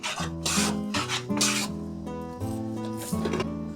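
A wooden hand plane fitted with a set chisel blade smooths a wooden surface: a series of close, rasping strokes, each a brief shaving sound, repeats at a steady rhythm.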